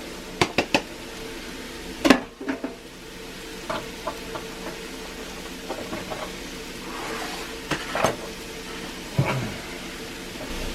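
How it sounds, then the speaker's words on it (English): Corn and mushrooms frying in oil in a cast iron pan for a chicken enchilada bake, a soft steady sizzle broken by a few sharp clinks and scrapes of a utensil stirring against the pan, with no talk. "I need a little bit more oil because I'm going to throw in the corn and the mushrooms"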